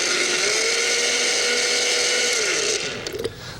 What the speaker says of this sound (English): put the blender on here, and start to puree these cherries